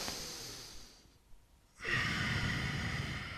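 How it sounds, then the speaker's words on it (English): Slow nasal breathing during a yoga exercise, an audible exhale fading into a quiet pause before a fuller, louder breath through the nose, close and alone. "breathe in and out of your nose"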